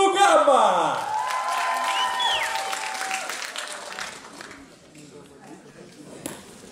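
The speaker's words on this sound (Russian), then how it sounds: "бурными аплодисментами встречаем студентов нашего университета" An audience bursts into loud applause with whoops and shouts as a university student dance group, New Gamma, takes the stage, then the clapping gradually fades and thins.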